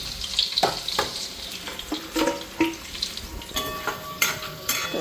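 Potatoes fry in a pan with a steady sizzle, broken by repeated clatters and scrapes of a utensil stirring and knocking against the metal, close and fairly loud, with no talking.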